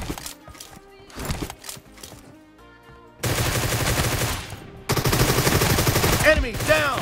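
Rapid bursts of gunfire in a PUBG team deathmatch come loud and dense in two sustained stretches, with quieter game sounds and tones before them.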